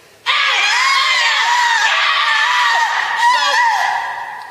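A convention crowd screams, cheers and whoops loudly at close range, a sustained wall of overlapping shrill voices that holds for several seconds before tapering off.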